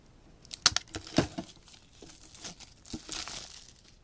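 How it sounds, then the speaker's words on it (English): A plastic wrapper on a Pokemon Machamp EX tin is cut and torn open up close, producing crinkling rips and crackles in a few quick bursts, fairly quiet, with no talking. "cut through the wrapper here."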